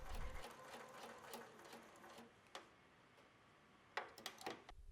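A sewing machine stitches Lycra swimwear at close range, finishing a seam with bursts of rapid mechanical ticking and a few sharper clicks toward the end, with no voices.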